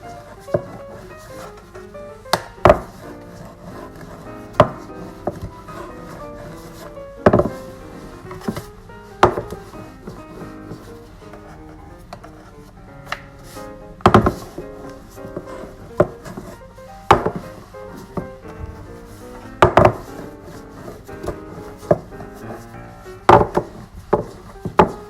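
Bao bun dough rolled out on a wooden board, heard as irregular sharp knocks and taps of the rolling pin against the board every few seconds, with a soft rubbing between them and music in the background.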